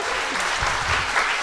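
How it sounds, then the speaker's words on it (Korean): Studio audience applause at the close of a Korean talk show segment, a brief burst of many hands clapping at moderate volume. "박수 부탁드립니다"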